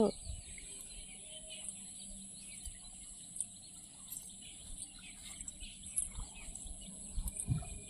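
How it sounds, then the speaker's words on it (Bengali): Birds calling in the early morning outdoors, faint scattered chirps and tweets from several directions over a quiet, slightly hissy background, with no single close singer. "সকাল সকাল কত রকমের পাখিদের কলরব পাখিদের ডাক"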